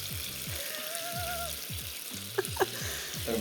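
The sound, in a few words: beef sizzling in a stir-fry pan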